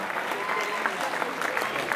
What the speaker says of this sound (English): Big round of applause for Eric and Frontier Communications